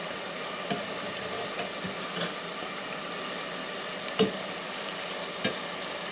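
Homemade onion rings frying in hot oil, a steady close sizzle and crackle throughout with a few small pops and scrapes as they are turned.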